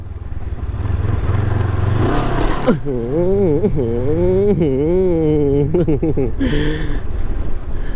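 A vehicle engine revs hard on a dusty dirt track, its pitch repeatedly rising and falling in loud surges after a rough, rumbling start.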